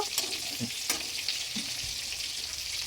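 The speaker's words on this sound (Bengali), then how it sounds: "হালকা মিডিয়ামে দিয়ে আমি চিংড়ি মাছগুলো ভেজে নেব" Prawns fry in oil over medium heat, giving a soft, even crackle with faint pops and light clicks of a utensil nearby.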